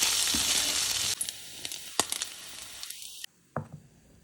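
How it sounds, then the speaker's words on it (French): Bacon lardons sizzle and crackle in a dry pan with no added fat, a steady frying hiss that cuts out abruptly partway through, leaving scattered pops and a few stirring scrapes. "je fais cuire 100 g de lardons dans une poêle sans ajouter de matière grasse et je les laisse bien griller"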